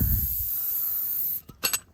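A steady hiss of a silicone spray can for over a second, sprayed on a Volkswagen Tiguan motor mount, then it stops, followed by a few short clicks and handling noises.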